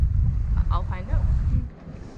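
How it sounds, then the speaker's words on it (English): Wind buffets the microphone aboard a sailboat running downwind at sea on a solo passage, a steady low roaring rumble that rises and falls, with a brief muffled voice-like sound partway through. "the wind is dropping off a little bit"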